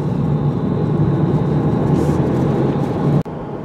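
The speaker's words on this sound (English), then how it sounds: "Should be interesting to see what the wind noise level is." Steady, loud wind rush and road roar fill the cabin of a 2020 Mercedes-Benz C300 Cabriolet driving with the top down, then cut off abruptly just before the end.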